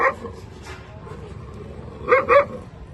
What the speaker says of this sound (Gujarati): 4 કૂતરાને પકડીને બાંધ્યા છે.